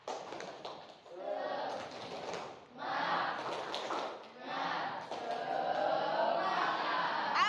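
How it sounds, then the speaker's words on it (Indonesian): Group of people clapping in unison for an Indonesian classroom 'tepuk semangat' spirit cheer, bursts of rhythmic claps in three or four runs, close and fairly loud, with voices chanting and talking between them. "kita tepuk semangat dulu"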